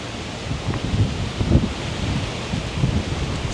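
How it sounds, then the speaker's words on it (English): Strong gusty wind buffeting the microphone outdoors beside a pond with a small fountain in a park, a steady low roar with surging gusts and no talking. "The wind is blowing like crazy."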